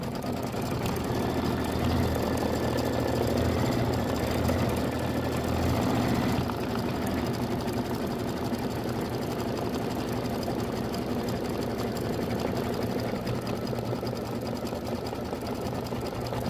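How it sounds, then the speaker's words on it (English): An embroidery machine stitches a satin outline around three hearts in a 5x7 hoop, with a fast, continuous mechanical chatter that stays close and steady throughout, alone with no talk. "Now it's going to do the satin outline on all 3 of these hearts."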